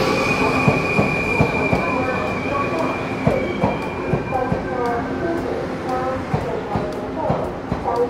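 A train bound for Kaohsiung, Taiwan rumbles into the station with wheels squealing and clattering over the rails, brakes hissing, while a voice speaks over the noise.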